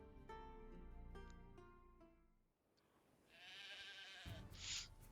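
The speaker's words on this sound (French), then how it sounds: "Il a l'air rocailleux son mouton." Sheep bleating in The Witcher 3 video game on the isles of Skellige: a few quiet, wavering bleats at first, then a softer breathy rustle with a brief higher cry near the end.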